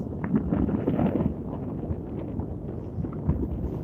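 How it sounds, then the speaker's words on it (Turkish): Strong wind on a seashore roars and buffets the microphone in a continuous low rumble, with no voices. "İyice rüzgar arttı şimdi."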